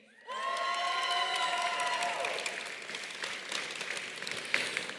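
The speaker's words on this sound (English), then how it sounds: "you may, using an outside voice, cheer for your representative" A graduation audience cheers, whoops and applauds for an engineering department representative. The loud, sustained crowd noise sets in almost at once and fades slightly toward the end.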